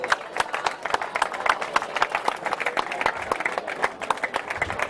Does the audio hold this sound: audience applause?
yes